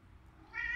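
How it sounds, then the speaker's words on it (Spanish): A house cat meows once, a short, clear, fairly close call that rises near the end of the brief moment, with no talking over it. "Gato."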